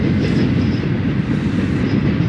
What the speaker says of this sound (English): we were just sitting there listening to the train approach